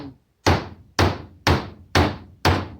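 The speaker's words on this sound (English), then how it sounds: "What I'm going to do is just take this ball joint socket here, this ball joint tool, and I'm going to knock it in." Five sharp metal hammer blows at an even half-second rhythm, each ringing briefly, drive a control arm bushing into place with a ball joint tool on a 1990 Toyota SR5 truck, close and loud, held in a cheap vise, no talking.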